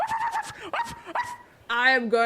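A man vocally imitates a dog, giving a few short barking woofs followed by a longer whining, howl-like yelp, voiced up close and fairly loud.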